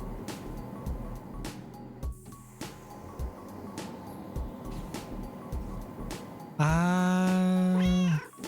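An orange cat meows in the game Schrodinger's Cat Burglar, a single loud, drawn-out cry with a rising then falling pitch near the end, following a stretch of quiet clicks and low ambient hum.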